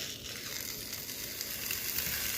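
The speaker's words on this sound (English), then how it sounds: "We want to get our steaks on there, and I'm going to put it down at an angle" Steaks sizzle steadily on a grill set to 375 degrees, a dense, continuous frying hiss with small pops, close and fairly loud throughout, with no talking.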